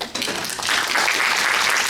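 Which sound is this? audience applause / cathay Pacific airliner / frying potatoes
audience applause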